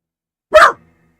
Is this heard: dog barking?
yes